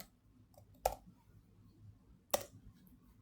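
A computer mouse clicks to save a file, two crisp separate clicks about a second and a half apart in a quiet room, close and faint, with no talking.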